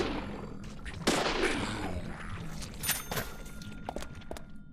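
Gunfire in the video game Deadly Premonition rattles in a loud opening volley, then breaks into irregular bursts and single shots that thin out toward the end, close and punchy.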